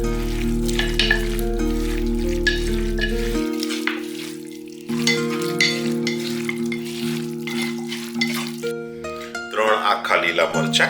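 A kilo of large lamb pieces with onions and half a cup of oil frying and being stirred in a clay pot, sizzling loudly and steadily beneath background music, with scraping stirs.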